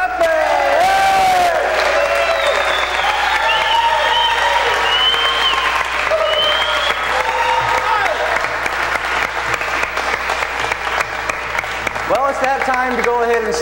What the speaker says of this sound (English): Clap it, everybody, clap it!